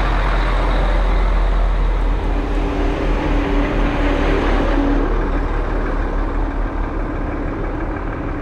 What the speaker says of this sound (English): got some uh, construction going on over here.